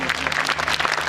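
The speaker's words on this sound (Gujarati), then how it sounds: "જોરદાર તાળીઓ પાડીશું." An audience at a silver jubilee festival bursts into loud, dense clapping, a brief burst of applause from a close crowd.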